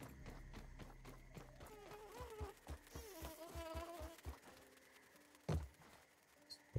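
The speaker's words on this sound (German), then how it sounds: "Hier kommt die Biene gegen." A bee in the survival game Grounded gives a close, wavering buzz over rapid footsteps, then fades and is followed by a few sharp thuds.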